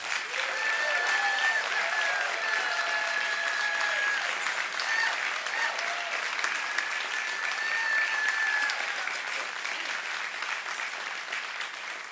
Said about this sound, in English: So please give these singers one more huge round of applause.